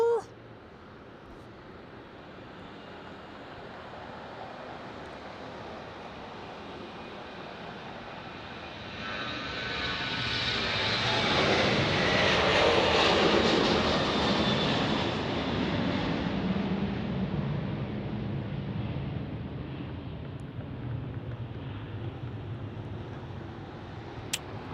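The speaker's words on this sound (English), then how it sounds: "Got another Southwest takeoff departure." A Southwest Airlines jet takes off at Dallas Love Field, its engine roar building into a broad, loud rush that peaks midway and then slowly recedes, heard from a nearby spotting position with faint wind noise.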